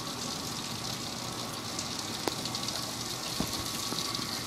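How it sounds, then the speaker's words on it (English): Heavy pouring rain from a bad storm makes a dense, steady roar that fills the whole moment, with a couple of sharp knocks standing out briefly. "Jesus, it's pouring."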